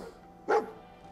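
A single short, sharp dog bark in the Fallout 4 video game, heard alone and fairly close.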